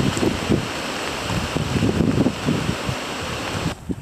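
Steady, loud wind roars across the microphone on a snowy, slushy mountain track in drizzly rain, a constant rough buffeting that dips just before the end, with no voices.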